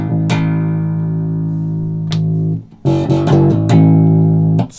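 Bass guitar fitted with Fishman Fluence pickups, played in a meaty mode after a thinner single-coil setting: sustained low notes ringing loud and close, a couple of plucked attacks, a brief dip, then fuller repeated notes.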